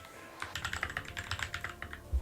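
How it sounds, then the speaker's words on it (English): Rapid keystrokes on a keyboard fitted with Glorious Holy Panda tactile switches, a quick run of close, crisp clacks over about two seconds with no voices. "I feel like typing is going to be a lot easier on this keyboard now"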